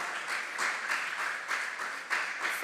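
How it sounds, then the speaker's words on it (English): An audience at an inter-school competition claps for a short spell, a dense, steady patter of hands that swells slightly toward the end. "Oh, I want to hear the clap."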